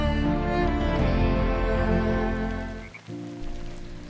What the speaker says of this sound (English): We can hear the rain